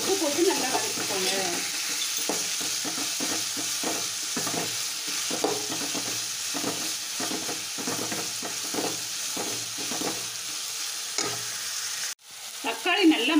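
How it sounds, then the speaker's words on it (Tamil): Chopped tomatoes with salt sauté in a pan for vegetable biryani, a steady close sizzle with repeated stirring scrapes, ending in a brief clunk. "தக்காளி நல்லா வதங்க கொஞ்சம் உப்பு போட்டு நல்லா வதக்கிக்கோங்க."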